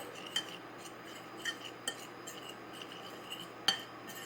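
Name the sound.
mixing flour, salt and pepper in a bowl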